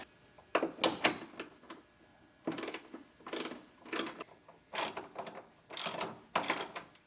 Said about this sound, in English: wrench in a socket and we'll tighten this down